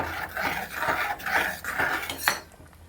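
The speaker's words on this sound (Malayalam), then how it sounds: "ഇനി ഒന്ന് ഇളക്കട്ടെ" A metal spoon scrapes and clanks around a pot of curry with curry leaves in several rhythmic strokes, close and moderately loud, with no talking.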